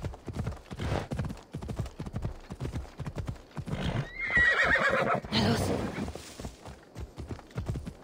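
A horse in Assassin's Creed Odyssey clip-clops along at a brisk, steady gait, with a loud whinny partway through and someone talking over the hoofbeats.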